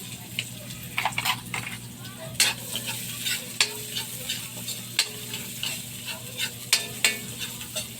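Onions sizzle in a pan while adobo is being cooked, with bursts of stirring and utensil scrapes against the pan over a steady frying hiss, close and fairly loud.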